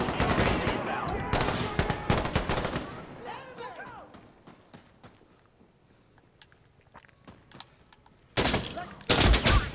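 Automatic rifle fire in the tactical shooter video game Insurgency Sandstorm, loud sustained bursts at first that fade into scattered distant shots, then heavy close volleys return at the end, with brief voices among the combat.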